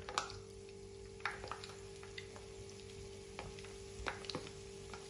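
Qatayef pastries fry in hot oil, a quiet sizzle with scattered crackles and pops over a low, steady hum.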